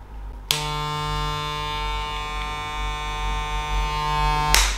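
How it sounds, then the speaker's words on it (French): A Babyliss hair clipper switches on with a click and runs for about four seconds as a steady, close, high-pitched electric buzz, then cuts off abruptly. "c'est ma première tondeuse Babyliss."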